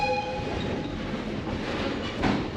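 A steam excursion train rolling along the Essex line, its steady rumble and clatter filling the car, with a faint sustained whistle tone sounding from the front car at the start.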